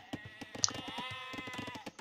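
A sheep bleats in a real-time strategy video game, a wavering, nasal cry held for about a second. Rapid clicks and other game sounds tick around it at a low level.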